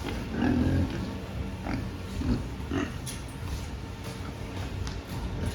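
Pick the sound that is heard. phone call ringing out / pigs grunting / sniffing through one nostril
pigs grunting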